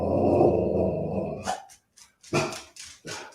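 A pet dog barks in short, sharp bursts nearby, several separate barks in an uneven rhythm after a stretch of louder rumbling background noise, at a house whose trees were sheared off by a tornado.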